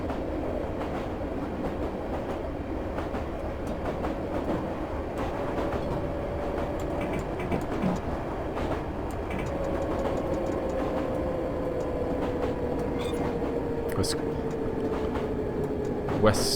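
A London Underground D78 Stock tube train runs in Train Simulator 2018 between Gloucester Road and Ealing Broadway, a loud steady rumble with rhythmic clickety-clack of wheels over rail joints and a rising motor whine throughout.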